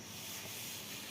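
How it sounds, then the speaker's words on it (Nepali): Someone scrubs and polishes the outside of a metal cooking pot, giving a steady, rough rubbing hiss that lasts about a second, faint and close, with no voices. "अहिले अब यो टल्काउनु पर्छ,"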